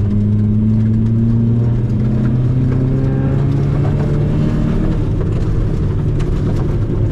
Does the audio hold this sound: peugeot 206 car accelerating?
yes